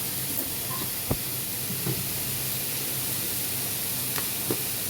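Cluster beans (gokarakaya) hit a hot oiled pan for curry, setting off an even hissing sizzle punctuated by a few soft clacks of the beans and utensil, close and steady.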